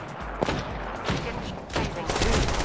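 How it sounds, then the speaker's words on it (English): Bursts of video game gunfire crackle in rapid volleys at about three points across a couple of seconds, over a steady background din with a voice faintly speaking. "Opening fire."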